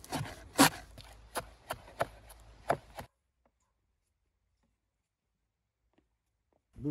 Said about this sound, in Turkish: Hırda hırda doğramak lazımdı göğersini.